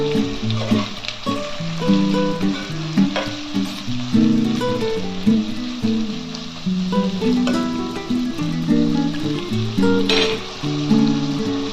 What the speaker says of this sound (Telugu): ఉల్లిపాయలు వేసుకున్న తర్వాత మనమైతే దీన్ని తిప్పుకోవాలి.